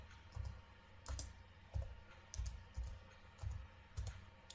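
Computer keyboard typing in an MS Project tutorial: soft, fairly close keystrokes come in small clusters every half-second or so over a steady room hum, with no one talking.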